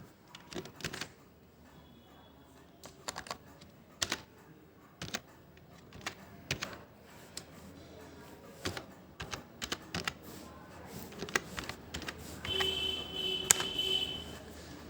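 Fingers type an address into a form on a computer keyboard, a run of close, crisp key clicks in uneven bursts with short pauses, growing denser toward the end, with no voices.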